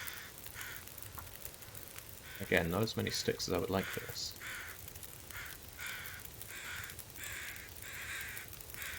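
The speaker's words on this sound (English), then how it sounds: "Hope you like the sound of crows." Crows caw in the snowy wilderness of the survival game The Long Dark, a series of harsh, repeated calls at a moderate distance, with one louder burst of cawing in the middle and someone talking quietly.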